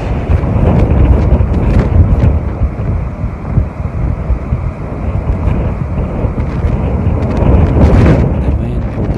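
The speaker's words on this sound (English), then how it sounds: "The force of the wind destroyed a couple of houses and blew dozens of roofs." Strong storm wind from a tornado striking Duba in Tabuk, Saudi Arabia, roars and buffets the microphone in a loud, continuous rush with gusting swells and no voices.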